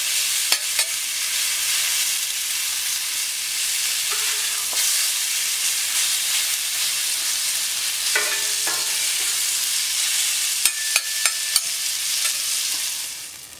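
Courgettes with persillade sizzle steadily on a plancha, with a bright, continuous frying hiss close up and a few faint clicks and scrapes from utensils.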